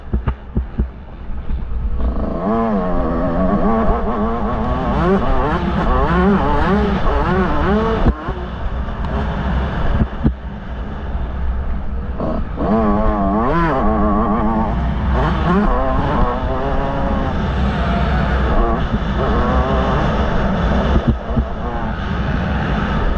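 A Yamaha YZ 125 two-stroke dirt bike ridden in laps, its engine note rising and falling steadily and close throughout, with wind buffeting and faint voices mixed in.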